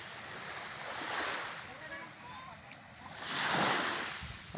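Waves washing onto a long sandy beach shore at a resort: two slow swells of soft surf that rise and recede over a hissing background, distant and gentle, with light wind noise.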